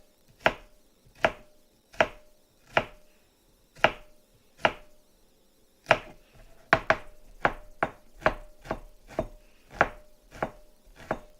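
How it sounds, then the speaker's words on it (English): A knife chops scallion finely on a cutting board, sharp close knocks at first slow and evenly spaced, then coming quicker and more irregular, with no talk. "I'm going to start this soup off with a little bit of scallion, and I'm going to get this finely"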